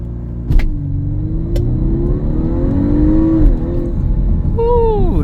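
Audi A5 Sportback accelerating hard from a stop after a U-turn, engine note rising steadily in a loud in-cabin rumble, then dipping at a gear shift and climbing again.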